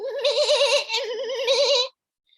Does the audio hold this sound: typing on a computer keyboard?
no